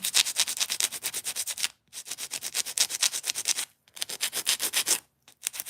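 Fingernails shaped to a point with a nail file, rapid rhythmic rasping strokes close up in three runs separated by brief pauses.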